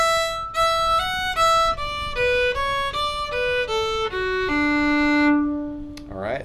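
A lone fiddle plays the phrase that closes the first part of The Eighth Of January, a quick sequence of distinct bowed notes that settles onto a long held low note, close and prominent with no talk.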